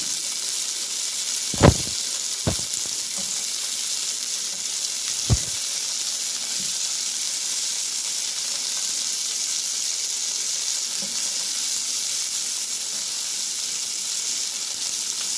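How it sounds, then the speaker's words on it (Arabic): Raw shrimp are laid onto a hot pan greased with fat but no oil, giving a steady close sizzling hiss throughout, with a few sharp taps early on as the pieces hit the surface. "ودي كده طاسه سخنه، يعني مفيش فيها زيت خالص، هي مدهونه بس ماده دهنيه مش زيت. وهننزل كده بالجمبري كده عليها."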